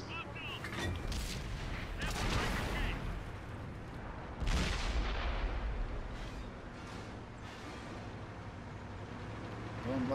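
Heavy tank cannon in a World of Tanks console match, a WZ-111 Alpine Tiger, firing booming shots with long rumbling tails, two strong blasts about two seconds apart over a constant engine drone, moderately loud.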